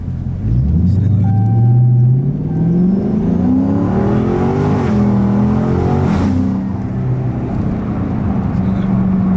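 A Dodge Charger Scat Pack's V8 revs hard and loud up close, the pitch climbing steadily, peaking, then dropping back to a heavy rumbling idle, with no break in the engine noise.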